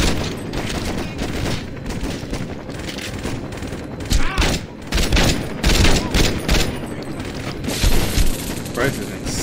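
SMG fire in the video game Saints Row 2 comes in loud, rapid bursts with booming impacts, repeating across the whole stretch while someone talks over it.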